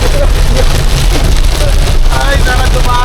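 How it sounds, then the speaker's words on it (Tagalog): Very heavy rain pours down during a storm at a campsite at Malagundi Point in Lobo, Batangas, a loud dense continuous roar and patter close to the microphone with no break. "Talaga grabe ang lakas ng ulan oh."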